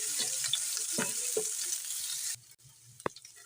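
Garlic ginger paste sizzling in a pan of hot oil while cooking a crispy potato snack, a steady close fry with scrapes of stirring that suddenly quiets partway through, leaving faint crackles and a light clink.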